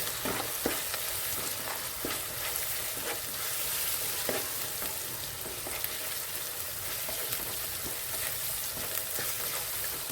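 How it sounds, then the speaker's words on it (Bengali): Masala with red chili powder and Kashmiri chili powder being stirred and fried in a pan for a masala egg curry, a steady close sizzle with scraping spoon strokes recurring throughout, no voices. "ভালো করে মশলাটা নাড়িয়ে চাড়িয়ে কষিয়ে নিতে হবে।"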